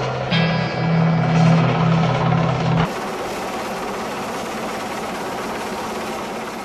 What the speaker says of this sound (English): Manoeuvring a Sea King helicopter so close to a Thames sailing barge